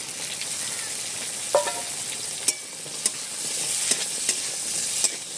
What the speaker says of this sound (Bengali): আর এদিকে দেখুন মশলাটাকে ভেজে নিয়েছি, দিয়ে দিচ্ছি কাঁঠালের দানা